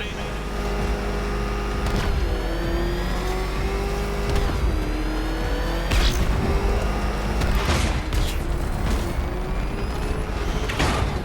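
Batmobile engine in the video game Batman Arkham Knight, a steady loud motor drone with rising and falling revs and bursts of acceleration, overlaid by game music and occasional impacts.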